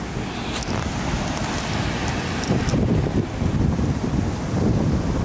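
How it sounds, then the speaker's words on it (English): Strong wind buffets the microphone on a Tulum beach in Mexico, with surf washing and breaking in the background as a continuous loud roar. "crazy Tulum beach right here."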